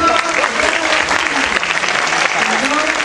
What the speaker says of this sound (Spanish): Un aplauso al senador.